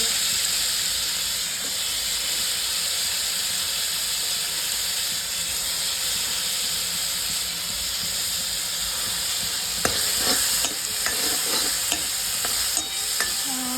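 Tomatoes frying in a pan give a steady loud sizzle and hiss, then a spoon stirs and scrapes against the pan with several sharp knocks near the end, close and without talk.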